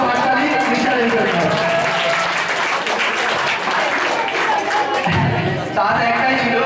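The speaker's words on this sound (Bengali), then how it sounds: "অসংখ্য হাততালি মিশালের জন্য" Loud, sustained applause from an audience at a coaching centre cultural programme, dense clapping with crowd noise and some voices underneath, dipping briefly near the end before resuming.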